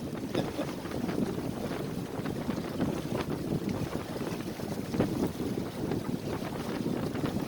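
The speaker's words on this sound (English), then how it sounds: "That means there's a gust coming." Wind gusts hit a sailboat out on the water, a loud, continuous rushing roar with buffeting against the microphone and faint water sounds beneath.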